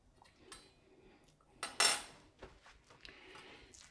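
Quiet metallic scraping and clinks of a fork against a bowl while mixing minced beef tartare, with one louder scrape in the middle and softer taps after.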